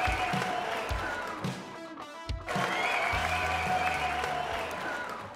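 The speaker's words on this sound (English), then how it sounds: "So let's give a round of applause for Jon." An audience applauds on a talk show set, a steady dense wash of clapping that briefly drops out for a moment and then resumes at full strength.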